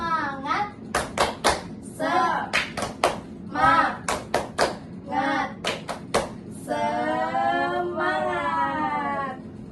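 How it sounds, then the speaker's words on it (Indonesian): Children in an Indonesian primary school class do a rhythmic 'tepuk semangat' spirit clap, sharp bursts of hand claps in a patterned beat, interleaved with children's chanting voices and ending in a sustained group shout. "Kita tepuk semangat dulu yuk."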